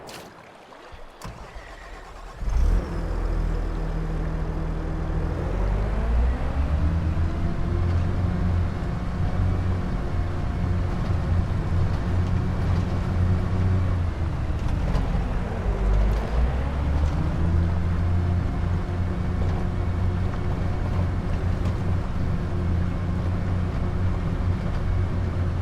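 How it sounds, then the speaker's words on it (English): A small tractor's engine drones steadily in Farming Simulator 22 on a dirt track, a loud continuous hum whose pitch rises and falls twice with throttle after a brief start, with no voices. "What a funny little tractor."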